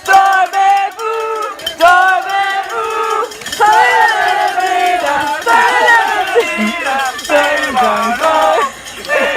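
Spectators at a mountain bike World Cup race in Fort William cheer and shout loudly in rhythmic bursts, a dense, close crowd of voices chanting and yelling.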